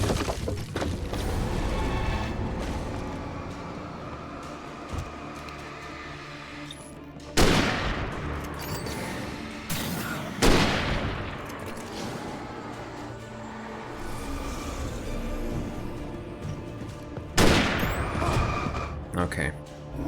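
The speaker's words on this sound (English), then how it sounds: "There's no point in shooting at them when I don't have my light." Gunfire in Alan Wake Remastered comes as a few sharp shots spaced several seconds apart, cutting through steady, dense in-game background noise.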